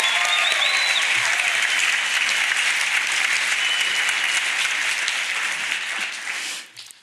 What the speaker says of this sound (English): So big round of applause for us.